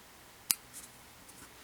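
Scissors snip joining thread on a miniature 1/12th scale crocheted granny square throw, one sharp close click followed by a few fainter snips and a final crisp cut against a quiet background.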